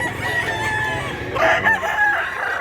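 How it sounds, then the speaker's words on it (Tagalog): Rooster at a Cebu gamefowl farm gives a loud, close crow with clucking around it, and no one talks. "Gandang manok."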